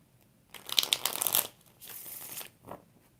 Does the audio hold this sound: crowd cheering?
no